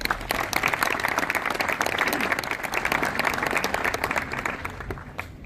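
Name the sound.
audience applause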